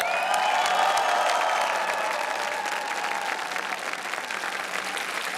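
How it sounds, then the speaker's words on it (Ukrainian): A studio audience on a Ukrainian TV show applauds a singer's stage transformation in a dress and high heels, a loud, sustained roar of clapping with some cheering and a sung or tonal sound over it at first. "наші оплески"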